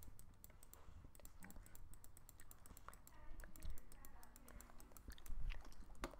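Rapid, repeated computer keyboard and mouse clicking during play of a jogging simulator computer game, quiet and close, forming a steady clatter with a few louder taps.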